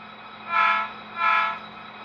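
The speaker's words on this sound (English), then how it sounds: "So let's go ahead and run this train forward." Two short horn blasts from a model train running on a layout sound over a steady mechanical hum, close and moderately loud, each lasting about half a second.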